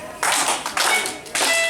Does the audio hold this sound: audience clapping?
yes